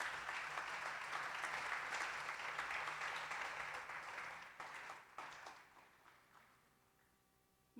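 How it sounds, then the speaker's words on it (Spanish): A church congregation claps together, a dense wash of applause that holds steady, then thins out into scattered claps before fading to near silence. "Vamos a aplaudir el nombre del Señor."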